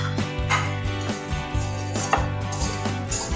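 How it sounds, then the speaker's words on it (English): Dry pancake ingredients for a purple yam pancake batter, including salt, baking soda and baking powder, are mixed in a bowl with repeated rhythmic knocks and scrapes of the utensil against its side, close and steady. "So just mix all the dry ingredients at once"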